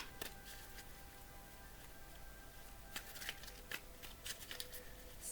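Tarot cards being shuffled by hand, a soft, steady papery riffle with brief sharper flicks, faint and close, with no voices.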